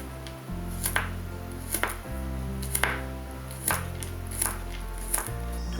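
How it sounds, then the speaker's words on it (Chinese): A kitchen knife dices food on a cutting board during fried-rice prep, giving evenly spaced single chops about once a second, close and crisp over a low background hum. "再切成丁状。"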